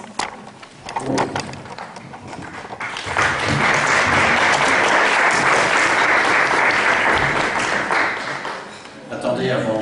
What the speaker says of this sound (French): C'est à vous les applaudissements.